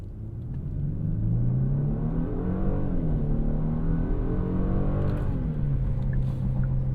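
A 2025 Genesis G80 Sport Prestige launching from a standstill in Sport Plus mode, its engine rising in a loud, continuous rumbling surge heard from inside the cabin, with a brief pitch dip as it shifts.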